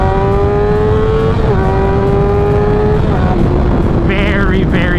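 Loud, sustained high-pitched whine of a 600cc sport motorcycle engine held near 10,000 RPM, the pitch wavering slightly and dipping toward the end, with a voice talking over it.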